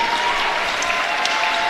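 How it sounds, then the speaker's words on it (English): A basketball crowd at the ASRC applauds as five Lady Toppers seniors come to the bench, a steady, even roar of clapping over gym ambience, with a faint whistle-like tone running through. "Now we're going to hear a nice round of applause as the 5 seniors for the Lady Toppers come to the bench."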